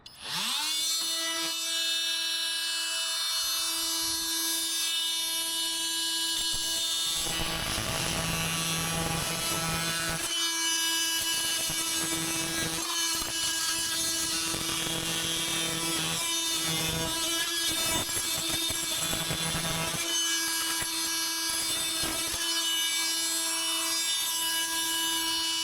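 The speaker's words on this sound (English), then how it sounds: "that is definitely going to be the best multi-tool I've actually used in my life. That cuts through so quickly." FLEX 24V oscillating multi-tool cutting through wood, a loud steady high-pitched buzzing whine that runs the whole time, with the pitch dropping and roughening in bursts as the blade bites into the workpiece.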